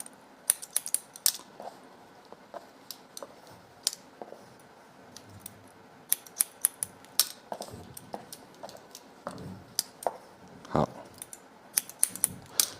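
Rapid, crisp snips of salon scissors trimming a short haircut, coming in irregular bursts of sharp close-up clicks with brief pauses between them, no talking.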